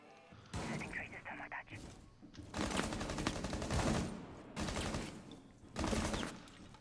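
Gunfire rattles through an esports match of a competitive video game as several dense bursts of shots, some clustered in rapid volleys, while a commentator talks over the action.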